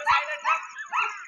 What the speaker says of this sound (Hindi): बंधे हुए पे भौंक रहा है।